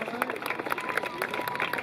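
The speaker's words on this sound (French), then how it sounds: "on peut applaudir les pompiers de Ville-Laval" An audience at a Laval firefighters' festival claps for the Ville-Laval fire crew after a vehicle extrication rescue demonstration, producing a steady, moderately loud patter of many hands with voices talking over it.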